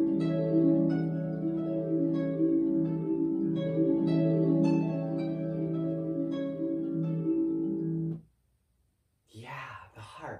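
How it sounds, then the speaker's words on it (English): Harp being played in a short solo phrase of plucked, ringing string notes with an even, flowing rhythm, ending in brief silence, and then a voice starts to speak. "The harp is a beautiful string instrument"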